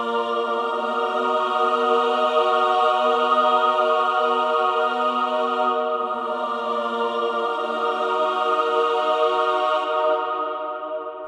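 Sampled soprano choir voices hold a smooth, sustained high chord in an orchestral mix for about eleven seconds, steady and unbroken before tapering off at the end.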